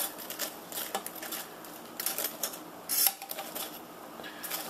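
Chicken nuggets and fish sticks are stirred in an air fryer basket, making light scraping clatters and a few sharper metallic knocks over a soft fan hum.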